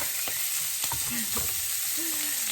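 Tomatoes and vegetables fry in a pan beside seared steak, giving a continuous close sizzle with brief stirring scrapes and a clink or two over it.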